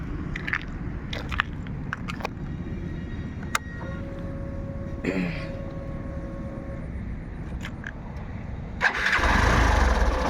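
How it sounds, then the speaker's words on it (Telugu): A single-owner Hero Glamour motorcycle sits through scattered clicks and light handling noises before its engine catches near the end and settles into a loud, close, steady idle. "ఇక మీకు ఇంజన్ కూడా స్టార్ట్ చేసి చూపిస్తాను చూడండి"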